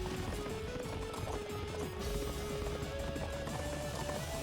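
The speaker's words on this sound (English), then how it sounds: "Damn horse needs to go faster." A horse gallops in a video game with soft, quick, rhythmic hoofbeats under a thin steady tone, all fairly quiet.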